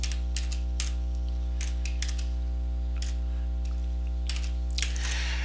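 A computer keyboard is tapped in quick, light bursts of keystrokes, fairly close, over a steady electrical hum, with a slightly louder flurry near the end.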